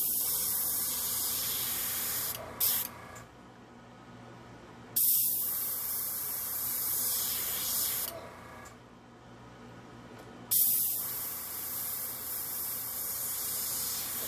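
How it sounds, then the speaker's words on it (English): A steady, hissing rush of air blows alcohol and acrylic ink dry. It runs in three long stretches of several seconds each, split by short pauses, with a faint hum underneath. "Make sure to blow the ink, or rather the alcohol and the ink completely dry."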